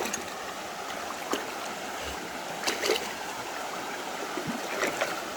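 Creek water flows and trickles steadily around someone wading knee deep at a hot dispersed campsite, with occasional nearby splashes and sloshes over the constant rush.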